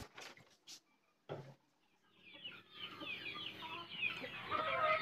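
A few brief thumps and noises, then a flock of chickens clucking and chattering steadily, growing busier toward the end.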